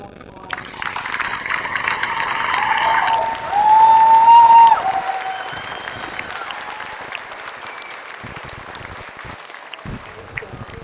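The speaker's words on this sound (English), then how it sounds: "Let's give them a round of applause." Applause for graduates at a college commencement ceremony, a crowd clapping steadily and swelling louder for a moment before thinning out, with some cheering.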